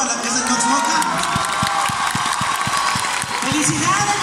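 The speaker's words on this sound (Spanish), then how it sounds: "Un aplauso, por favor" An audience in a large concert auditorium claps and cheers loudly, with shouts and whoops over steady applause and some rhythmic thumping, throughout the few seconds.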